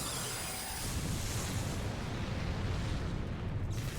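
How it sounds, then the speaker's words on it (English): A sustained, dense rumbling roar of an explosion in Final Fantasy XIV's Alexander raid that fills the clip and fades slightly at the end. "Cool guys don't look at explosions."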